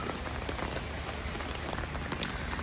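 Steady rain patters densely on a surface, an even hiss of drops with no voices.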